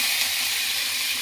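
Curry leaves sizzle in hot oil in a pan for a traditional dry prawn kulambu. A close, steady crackling hiss fills the whole short moment, with no voices.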